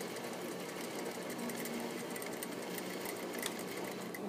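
A sewing machine runs steadily while stitching a gathering line in fabric, a continuous close mechanical whir with fine rapid needle ticks and no talking.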